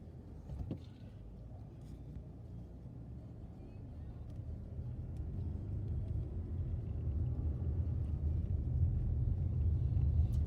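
A car drives slowly along the road outside the death row prison in Texas, heard from inside as a steady low engine and road rumble that grows a little louder, with no talking.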